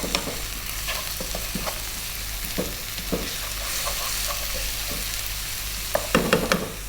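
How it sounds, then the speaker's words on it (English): Ginger garlic paste and salt stirred in a hot pan for Rajasthani laal maas, with a steady sizzle under repeated scraping strokes of a spoon and a sharper cluster of clinks near the end. "We're going to give that a little mix."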